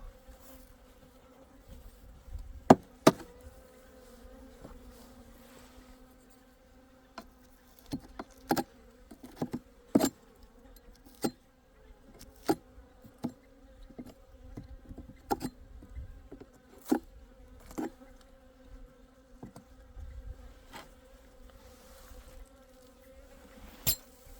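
Oriental honeybees buzz steadily as their hive, its styrofoam gnawed, is opened on a fine February day, a continuous hum broken by frequent sharp knocks and clicks from handling the box.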